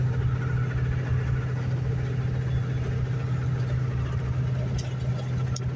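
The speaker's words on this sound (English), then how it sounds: "Get that engine up nice and happy." A Kenworth truck's diesel engine idles nearby, a steady low rumbling drone with a constant throb that holds unchanged throughout, with a few faint clicks near the end.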